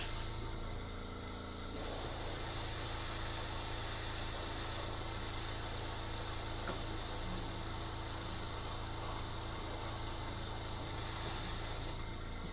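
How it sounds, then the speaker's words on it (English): A continuous airbrush hiss of spraying weathering paint runs steadily for most of the clip, with a low compressor hum underneath. "I need to spray this a bit more to get rid of the white."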